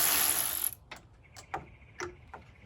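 A ratchet wrench clicks while loosening AC line fittings on a 2006 Kia Sportage LX, a hiss of noise at first giving way to a few sharp, separate metallic clicks close up.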